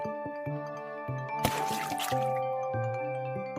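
A brief splash and churning water burst out over gentle background music as something falls into a river, then fade as the music carries on.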